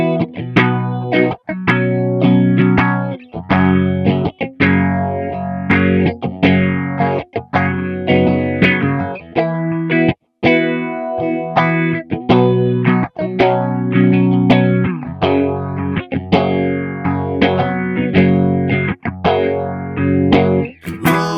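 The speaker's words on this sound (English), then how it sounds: "then we got our phaser," Electric guitar played through a BOSS PX-1 Plugout effects unit set to a phaser, giving a continuous distorted, swirling tone with steady strummed chords and brief pauses, loud and alone with no talk.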